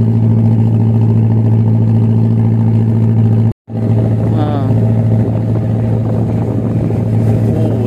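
Twin outboard engines on a motor jukung and a speedboat crossing a river give a loud, close, steady droning hum with a brief cutout partway, while people talk over the engine noise.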